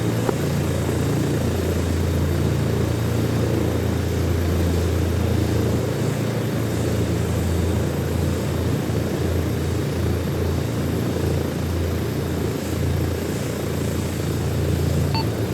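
A helicopter in the ArmA 3 military game flies steadily on a test run, accelerating and slowing, its rotor and engine making a constant, dense, whooshing drone from inside or close by, with no voices.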